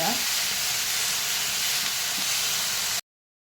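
Onion and tomato frying in oil for a spicy chutney, a loud, steady, close sizzle and hiss that runs evenly throughout and then cuts off abruptly near the end.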